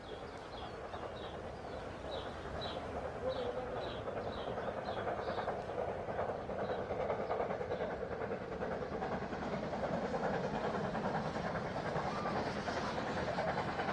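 A British Rail steam locomotive hauling a train, a continuous rumbling roar with a rhythmic clatter of wheels on track, moderately distant and steady throughout.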